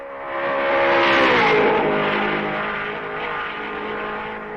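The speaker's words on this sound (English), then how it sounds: "Trintignant guns his Ferrari and avoids being overtaken by the leader for the second time" A 1955 Ferrari racing car at the Belgian Grand Prix, its engine rising in a loud, harmonic-rich acceleration that peaks early, then settles into a sustained high-pitched drone as the car pulls away.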